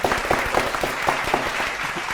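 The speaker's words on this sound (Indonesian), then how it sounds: "Oke, tepuk tangan untuk kedua tim." A studio audience on a televised quiz show gives both teams a short burst of clapping that stays dense and steady for a couple of seconds.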